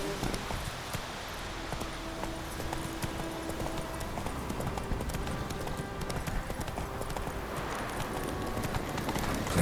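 Hooves of the horse in the video game The Witcher 3: Wild Hunt, a fast, continuous clip-clop of galloping with game ambience underneath, steady and moderately loud throughout.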